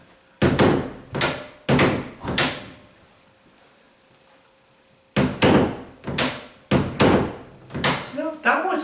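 A door hanging on a loose, sagging hinge is swung and knocked repeatedly, giving a series of close, hollow thumps in two clusters separated by a short quiet pause.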